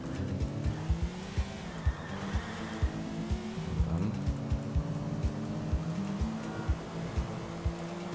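A car tears along in GTA IV with a steady engine drone and repeated tire skids and squeals, loud and continuous, with no talking.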